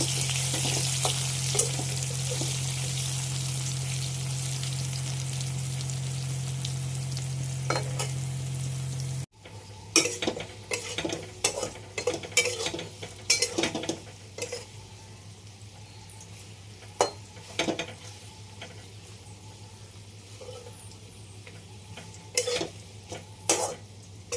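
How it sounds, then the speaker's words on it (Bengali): Cut potatoes frying in oil, a dense sizzle that drops sharply partway through, followed by quieter crackling and repeated scraping stirs against the pan. "ওই তেলেই একটু আলু কেটে ভেজে নিচ্ছি"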